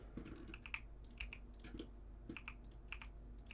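Typing on a full-size Keychron Q-series mechanical computer keyboard, with quick irregular clusters of crisp clicks and clacks, close but quiet, with no voices.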